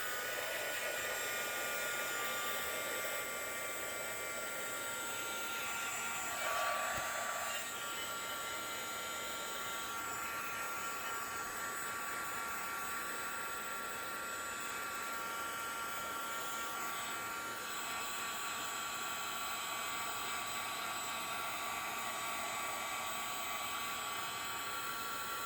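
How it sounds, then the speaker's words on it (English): A heat tool blows steadily throughout while setting embossing on a craft project, a loud, even hairdryer-like whoosh with slight pitch shifts and no talk. "Go ahead and heat set that."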